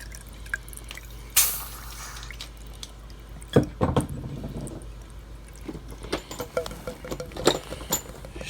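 Water drips and trickles from a newly unclogged air-conditioner condensate drain line, irregular patters and splashes close by with a few louder spurts, otherwise fairly quiet.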